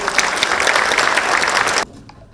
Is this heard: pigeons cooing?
no